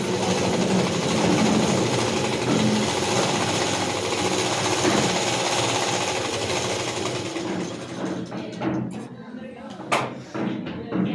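A tailoring sewing machine stitching the front part of a blouse, a steady, close whirring drone that runs continuously for several seconds before easing into scattered clicks and pauses.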